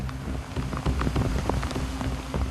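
Heavy rain suddenly pouring down in the Himalayan mountains, a dense, steady patter of drops on surfaces with scattered sharper splashes, close and continuous without speech.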